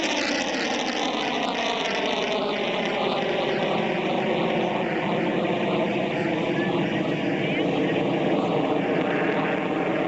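A Grumman F-14 jet fighter roars steadily overhead during a 1986 Cleveland National Air Show carrier-landing demonstration, a loud, continuous engine drone that stays constant throughout.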